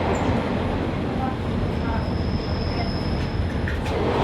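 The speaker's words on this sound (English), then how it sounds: "When you're on a northern pacer bouncing along, that to me feels like the real railway of Britain." A Northern Pacer train heard from inside as it bounces along the railway between Liverpool and Manchester: a constant loud rumble and rattle of wheels on track, with faint metallic squeals.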